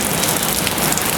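Heavy rain pouring down at a resort in the Sundarbans during a thunderstorm, a dense, loud, continuous hiss of drops on surfaces with no voices.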